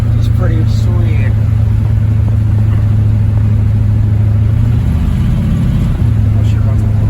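A 1968 Pontiac Tempest, worn and crusty, runs steadily from inside the cabin on a ride-along: a constant low engine drone with road rumble, loud and close, barely changing pitch, with brief voices over it early and late.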